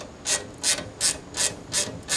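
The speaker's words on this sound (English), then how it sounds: "And now you can tighten all your bolts." Ratchet wrench tightening bolts on a Thermodyne wind turbine tail bracket, giving six evenly spaced, fairly close clicking bursts with no talking.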